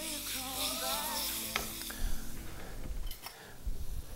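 Tomatoes sizzle and sputter in a hot pan, a continuous close frying hiss with occasional stirring clatter and scrapes, and no talk.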